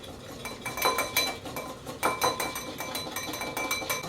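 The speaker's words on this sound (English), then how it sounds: "go ahead and break up your yolk. Whisk for a second." Egg yolk being whisked with oil for mayonnaise: a metal whisk clinks and taps against a bowl in quick, irregular strokes, close and fairly quiet, with no talking.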